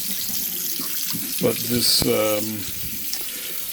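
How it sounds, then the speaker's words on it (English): Water from a kitchen sink faucet gushes steadily into the basin, close and continuous, while someone speaks briefly over it. "the other thing I don't like about the faucet is when you click on the spray, it's such a narrow spray"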